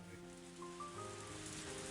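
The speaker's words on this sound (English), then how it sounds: "I listened to the soothing sounds of raindrops hitting the scrap iron in the trash heaps" Heavy rain from the Higurashi video game patters onto scrap iron in trash heaps, a steady, faint hiss of drops with soft tonal music underneath throughout.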